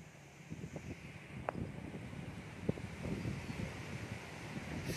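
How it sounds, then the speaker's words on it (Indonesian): Gusty wind rushes around a homemade wind turbine built from a starter dynamo, a steady low roar outdoors with a few faint clicks and knocks. "Kita tunggu anginnya seberapa kencang ini."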